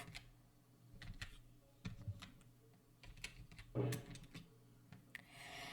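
Faint, irregular keystrokes on a computer keyboard as a Minecraft gamemode command is typed, with scattered clicks and a few heavier taps in a quiet room.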